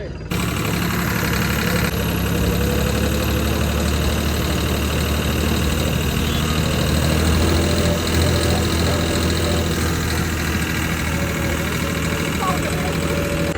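Tractor engine driving through a busy town market in Patran, a loud continuous low rumble with an idling, knocking chug throughout, people faintly present.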